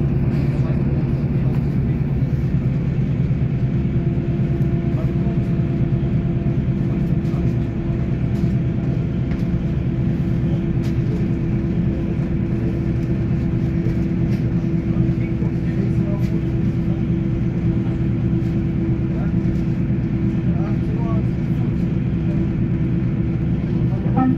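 Aboard an Agilis regional train on the RB95 line between Rehau and Oberkotzau, a steady low rumble and hum of the moving train fill the cabin, continuous and even throughout, with occasional faint rattles.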